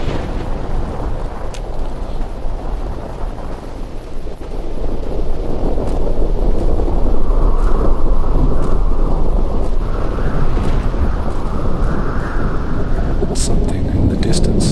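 A thunderstorm in the video game Fallout New Vegas gives a loud, continuous rumble of wind and rain that swells partway through, with low thunder rolling underneath.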